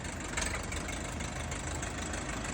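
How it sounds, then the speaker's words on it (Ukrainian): Engine of a new Bulat RF 404R Pro minitractor running steadily, a continuous low, dense rumble at even loudness throughout, close by with no talk over it. "Тарас, хороший тракторист на новенькому РФ404R Pro."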